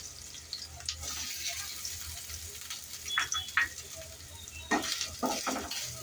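Grated fresh coconut sautéing with cumin in a pan, a soft steady sizzle with intermittent stirring scrapes and clinks, close and quiet.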